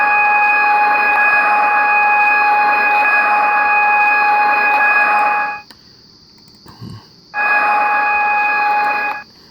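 A Trainz train horn start sound plays as a loud steady harmonic tone for about five and a half seconds, cuts out, then sounds again for about two seconds, with no talking.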